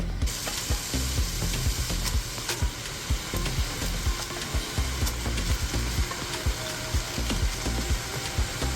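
Cabbage fries in a pan with onion and garlic for a spicy Cajun dish, with a continuous close sizzle broken by regular scraping and clicking stirring strokes.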